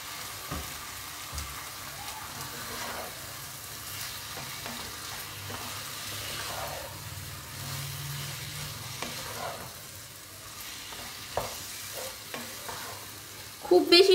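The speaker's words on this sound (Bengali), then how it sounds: "এখন আমি হাই হিটে করে দিচ্ছি। অল্প কিছুক্ষণের জন্য সটে টাইপের করে নিব।" Fried chicken pieces tossed over high heat with onion and green chilies in a pan, a steady low sizzle with intermittent scraping stirs, fairly close, and a few sharp clanks of the utensil at the end.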